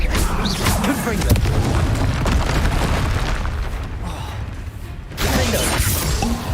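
Confringo blasting spells in Hogwarts Legacy on PC burst repeatedly as loud, broad booms over a continuous rumbling backdrop, with a sharp renewed blast near the end.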